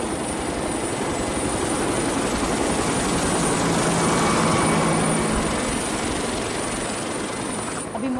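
Helicopter rotor and engine drone continuously and loudly for several seconds, a dense steady roar that swells slightly in the middle before easing.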